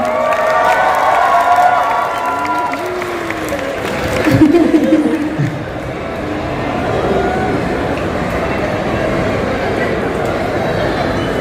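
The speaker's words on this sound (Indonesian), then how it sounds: "Kita berikan tepuk tangan yang meriah dulu" A crowd applauds and cheers in a large room at a film event in a Jakarta shopping mall, a steady wash of clapping and voices with a brief louder swell midway.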